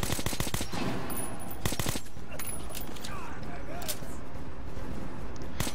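Rapid bursts of assault rifle fire crack out in Metro 2033, with several quick volleys at the start and a few later shots over tense ambient noise, while a player talks excitedly over the action.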